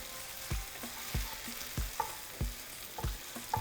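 Potatoes fry in oil with tomato, onion and jalapeño, a continuous sizzle broken by repeated scraping stirs at roughly half-second intervals, close and clear.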